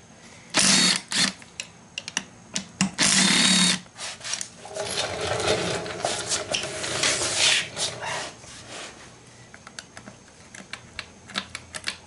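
Reverse gear being pulled from a Honda transmission during disassembly: sharp metallic clinks and taps, two loud bursts of grinding scrape, then softer rubbing and scattered clicks of parts and tools at close range.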